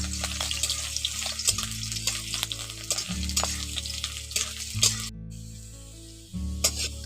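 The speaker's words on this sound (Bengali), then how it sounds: "ওই তেলের মধ্যে এখন আলুগুলো দিয়ে দিচ্ছি। আলুগুলোকে একটু ভেজে নিচ্ছি।" Potatoes frying in hot oil in a home kitchen for a cucumber curry, a continuous bright sizzle with occasional stirring clatters and a low steady hum beneath.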